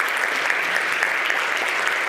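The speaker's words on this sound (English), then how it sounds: "a round of applause for yourselves" A large conference audience applauds steadily throughout, dense continuous clapping at a fairly loud, even level with no break.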